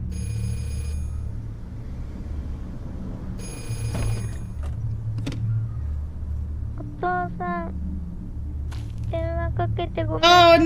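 Payphone ringing in short repeated electronic bursts, fairly clear over a low background hum, with a voice speaking in between.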